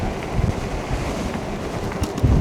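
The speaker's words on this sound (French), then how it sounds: "je suis pas rassuré par le vent" Strong wind roaring across the microphone while riding a Cyrusher e-bike downhill, a steady loud rush with gusty low thumps and no talking.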